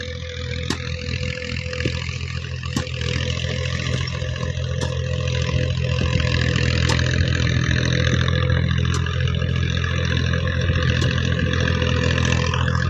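A tractor engine runs steadily close by, a continuous mid-pitched drone with a slight rise in level partway through and a few faint clicks and clatters over it.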